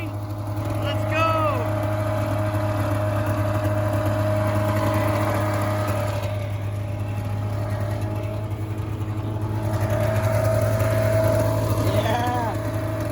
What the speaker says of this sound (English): Yeah, that's right, it's idling.